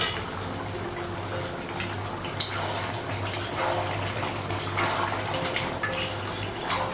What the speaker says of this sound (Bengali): ঝোলের জন্য জল লাগিয়েছি